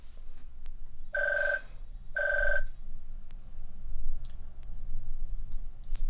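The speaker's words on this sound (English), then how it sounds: "The phone is going to continue ringing." An indoor telephone rings in two short electronic bursts about a second apart, fairly close. Scattered faint clicks and low room noise sit underneath, and no one speaks.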